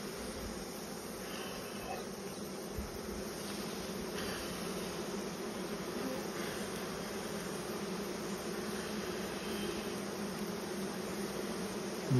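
Honeybees buzz in a steady, dense drone around open hive boxes during a honey harvest, a continuous close swarm hum with no talk.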